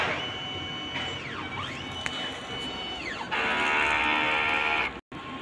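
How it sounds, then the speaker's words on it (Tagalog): A DTF printer runs a print head cleaning cycle: its motors whir loudly and steadily, with rising and falling servo sweeps as the carriage and pump move, and the sound cuts out briefly near the end. "Ito naman po ang aking printed head area. Ang capping, head clean,"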